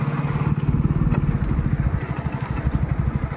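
A motorcycle engine runs steadily in third gear without throttle at about 17–18, its low, even thrumming continuous and close throughout.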